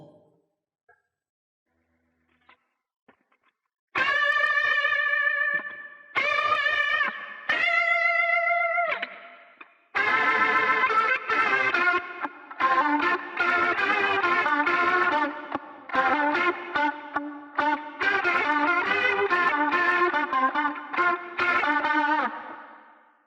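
An electric guitar, a Line 6 Variax through a Helix reverb block, plays a solo, sustained bending notes first, then a faster run of phrases ringing into a wash of echo.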